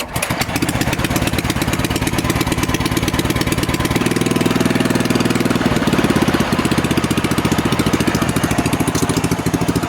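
A small Harbor Freight engine runs at a fast, even, rapid-firing chug, loud and near throughout with a slight pitch drop midway, and no one talks over it.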